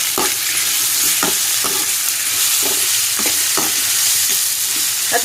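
Grated raw mango roasting in a pan, sizzling steadily while a utensil scrapes and stirs it in repeated strokes, close and fairly loud with no talk.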